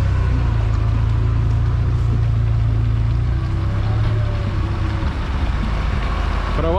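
A UAZ off-road vehicle grinds through a deep muddy rut, its engine a steady, heavy low drone that holds loud and close throughout with little variation and no talk.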